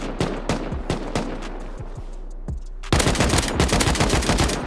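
Gunfire from the video game Rust rings out as a series of loud, sharp shots. Spaced single bangs come first, then a dense rapid automatic burst follows, and no one speaks over the firing.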